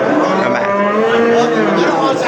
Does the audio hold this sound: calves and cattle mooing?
yes